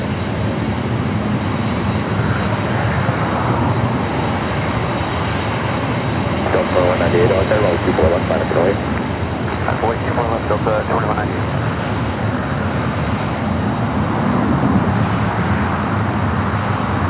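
An Air France airliner taxis across at Los Angeles airport, a sustained loud jet engine roar and rumble, with voices talking over it through the middle.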